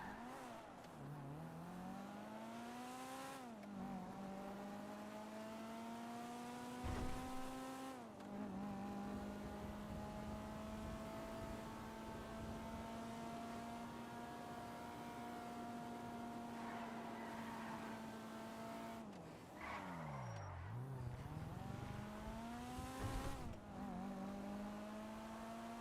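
A Biffa off-road two-door car on a test drive, its engine droning steadily with rising and falling revs as it accelerates and slows, heard close without talk.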